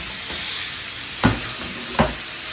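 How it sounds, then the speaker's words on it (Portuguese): Fatty meat frying in a pan gives a steady close sizzle and hiss, with two sharp clinks of a utensil against the pan partway through. "vou colocar pra poder fritar."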